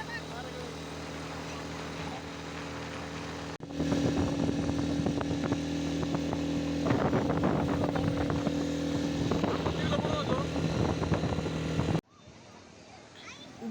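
Motorbike ride on Diveagar beach in the Konkan region, with a steady engine drone that grows louder partway through and holds under the wind, then cuts off sharply near the end. People talk over it.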